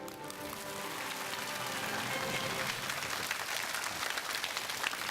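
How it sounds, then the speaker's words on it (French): Audience applause at a lecture: steady, dense clapping from a large crowd filling the whole stretch at an even, fairly loud level. "Applaudissements, s'il vous plaît."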